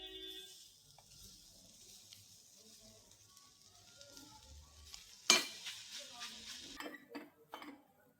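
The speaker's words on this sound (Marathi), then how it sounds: "त्यातच आता वाटाणे टाकून घ्यायचे." Green peas tossed into a spiced pan for kachori filling and stirred, with a sharp clatter midway followed by scraping, clinking and sizzling stirring sounds over a quiet background.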